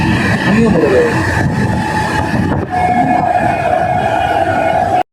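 Inside a moving train at night, a loud, constant rumble of the carriage fills the space, with a sustained whistle-like tone in the second half and people talking nearby.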